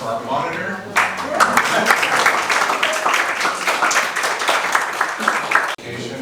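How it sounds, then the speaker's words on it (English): An audience at a policy roundtable breaks into dense applause that fills the room for several seconds, then stops abruptly. "a round of applause for our monitor"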